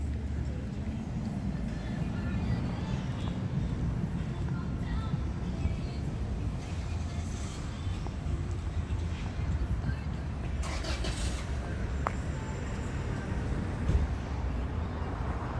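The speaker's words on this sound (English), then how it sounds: "A lot of noise is a big part of Los Angeles." Steady, loud street traffic in Los Angeles forms a dense rumbling wash of passing vehicles, with occasional brief brighter clatters over the constant roar.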